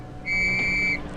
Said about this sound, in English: The warning may also be given by short blasts on police whistles.